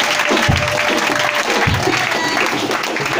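A church congregation applauds and acclaims the Lord, loud dense clapping that fills the room, with voices shouting and calling out through it.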